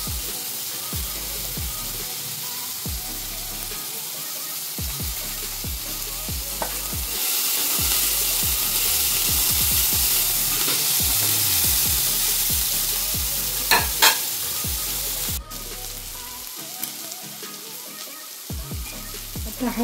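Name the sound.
ginger garlic paste frying in a pan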